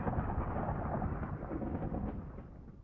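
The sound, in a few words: thunderstorm in the distance on Venus in Minecraft, video game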